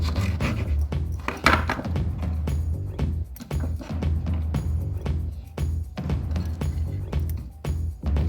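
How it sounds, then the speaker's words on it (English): A knife cuts strawberries into eight pieces on a board, each slice a short crisp tap in an irregular series, close and moderately quiet over a steady low hum. "Then we cut strawberries, so 8 pieces."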